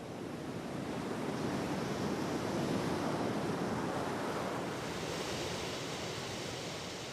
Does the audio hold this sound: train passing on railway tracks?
no